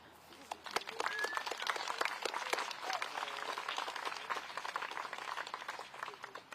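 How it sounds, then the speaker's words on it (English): An audience claps at an outdoor tree-planting commemoration in London marking the 80th anniversary of the Hiroshima atomic bombing: a sustained round of crisp applause from a modest crowd, rising quickly and holding steady for several seconds. "I think that is a big round of applause"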